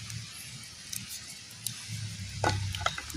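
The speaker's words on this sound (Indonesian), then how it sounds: "terus menggoreng bumbunya." Spice paste fries in a pan with a soft continuous sizzle, broken by occasional stirring scrapes and small sputtering pops, close by.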